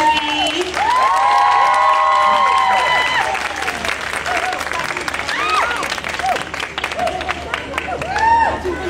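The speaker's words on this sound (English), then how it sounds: "So please give a round of applause for Kim and Henry." A crowd at a Women's Month event at the V&A Waterfront breaks into loud applause mixed with whoops and cheering shouts, staying dense and steady throughout with raised voices rising above the clapping.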